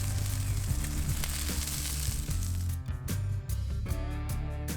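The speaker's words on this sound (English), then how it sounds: "Just gonna cook this chicken up." Chicken sizzling as it cooks at an elk-hunting camp: a steady, dense frying hiss that continues throughout, with a low droning hum underneath.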